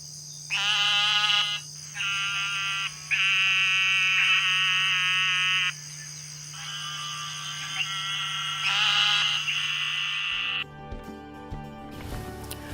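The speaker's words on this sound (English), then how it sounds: "the eastern narrowmouth toad has a really loud call. It's a long, piercing, nasally whine." Eastern narrowmouth toad gives a series of long, piercing, nasal buzzing whines, each a second or more long, separated by short pauses, close and loud over a faint steady hum of other frogs or insects, with no talking.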